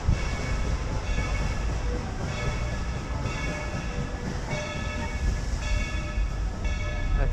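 A Dollywood theme park train in Tennessee rumbles along slowly, a low mechanical drone with a high tonal whine and occasional soft clanks, no talking.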